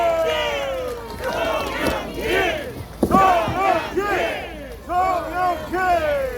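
A political campaign rally crowd in Naju roars with chanting and cheering, voices rising and falling in surging waves that fill the space loudly and close.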